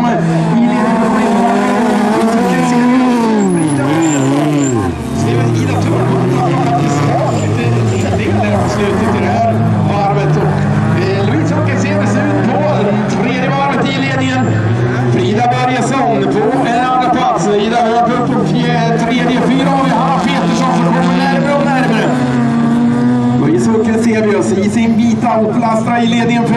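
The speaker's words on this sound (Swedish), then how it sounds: "Opelastra i ledningen för Frida Börjesson" Folkrace cars racing at the NGK Masters, an Opel Astra in the lead, their engines roaring loud and steady throughout beneath continuous excited race commentary.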